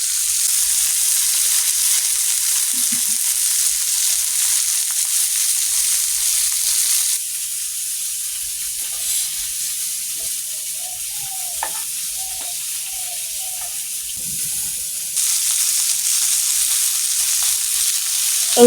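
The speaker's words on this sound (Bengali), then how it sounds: "এই তো মাছ ভাজিও হয়ে এসেছে" Fish frying in a pan for a Bengali khichuri meal, a steady bright sizzle running unbroken, dropping slightly in intensity partway through, with faint clinks and stirring scrapes and no talk.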